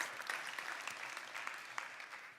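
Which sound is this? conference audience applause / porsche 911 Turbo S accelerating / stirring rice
conference audience applause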